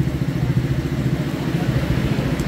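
A Honda ADV160 scooter engine running after an ECU remap, a close, loud, pulsing mid-pitched drone with rhythmic clatter throughout, no speech.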